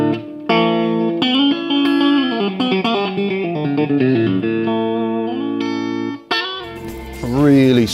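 A clean electric guitar rings out through a Yamaha THR100 amplifier set to Class A, a slow melodic line of sustained notes with a gentle, warm tone and a bending note at the end.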